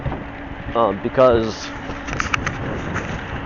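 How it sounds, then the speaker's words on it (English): Steady wind buffets and rumbles against the microphone while a person speaks briefly. "wow, it is windy."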